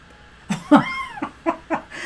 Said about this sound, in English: He's meowing, trying to get on the table by Mr. O